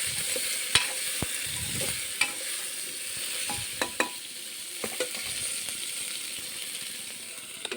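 Ingredients for khichdi sizzling in a pan, a steady frying hiss with a few sharp metallic clinks of a spoon stirring against the pot, close by with no talk.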